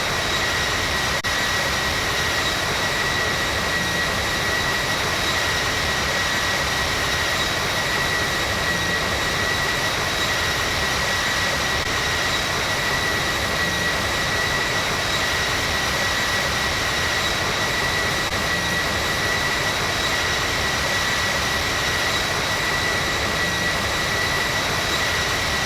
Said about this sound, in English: There actually is a bug with the engine sound.